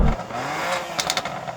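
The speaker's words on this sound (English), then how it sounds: "loads of pops and bangs on this exhaust" BMW M2 with a standard exhaust and no soft limiter revs hard, a continuous engine roar followed by a few sharp crackling pops near the end, close and loud.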